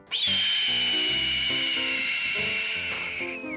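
Red-tailed hawk scream: one long, loud, hoarse descending shriek held for several seconds, heard alone over a low musical backing.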